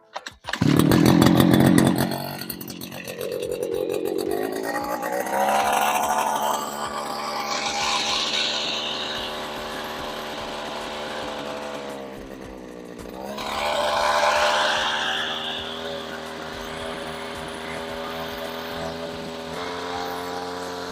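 A brushcutter engine pulls into life with a sharp start, then settles into a steady, high-pitched two-stroke drone that swells and eases with throttle changes over about twenty seconds, loud and close with no talk.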